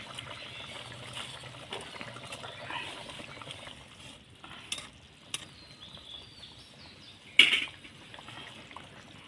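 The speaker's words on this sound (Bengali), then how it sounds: "ঝোল ফুটে গেছে, এখন ভেজে রাখা বড়া দিয়ে দিব" Fried green banana fritters dropped into boiling curry broth, a soft steady bubbling and trickle with a few small splashes and one sharper plop, close and quiet, no voices.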